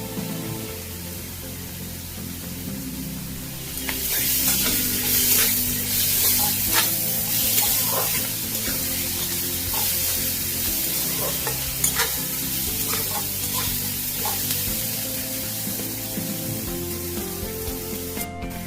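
Crushed garlic dropped into hot mutton fat, a steady close sizzle and frying hiss that swells when it hits the pan, with occasional stirring scrapes and no talking.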